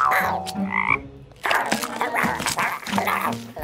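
Cartoon frog croaking in a cave guarded by skeletons, heard as a few loud, close croaks that break off near the one-second mark before more croaks and busy cartoon sound effects follow.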